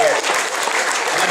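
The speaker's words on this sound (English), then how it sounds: "let's get a round of applause" Wedding guests applaud the bridesmaids in raspberry pink during a groom's speech, a dense, steady burst of clapping from a nearby crowd that fills the moment without letting up.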